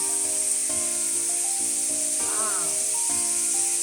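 Egg fried rice sizzling in a pan after soy sauce and oyster sauce go in, a constant bright hiss under someone talking throughout.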